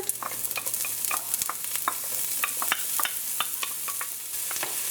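Chopped onions frying in chili oil for Guyanese pepperpot, a steady close sizzle broken by frequent sharp crackles and spatters from the pan, with no voices.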